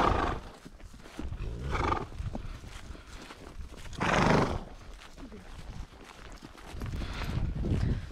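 A horse during a cross-country gallop neighs loudly in one strong burst midway, with hoof beats and rustling around it while people talk.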